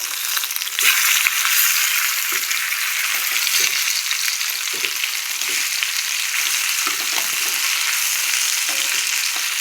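Catla fish frying in a nonstick frying pan: a continuous loud hiss and crackle of hot oil, close and steady throughout, with faint scrapes and no talking.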